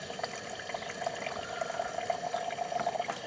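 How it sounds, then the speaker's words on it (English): Hot water pours from a thermos food jar at a camp cooking setup, a soft continuous trickle with a faint bubbling tone, close and fairly quiet, with no voices. "I take this water, which is still steaming, literally steaming, when I take the lid off, and I'll just pour this in here"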